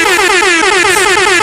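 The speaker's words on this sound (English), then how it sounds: "Oh, we have got an air horn." An air horn sounds one loud, sustained blast with a wavering, slightly warbling pitch that continues unbroken for the whole stretch.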